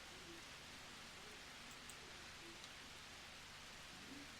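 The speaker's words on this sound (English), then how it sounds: "let me check my volume because this rain sound loud" Steady rain falls and patters on a surface outdoors, a constant broadband hiss with scattered droplet ticks, close and moderately loud, with no talking.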